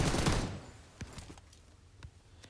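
Bursts of automatic gunfire from a PUBG Mobile match: a dense volley up front, then a few sharper single shots spaced about a second apart, moderately loud with no talking.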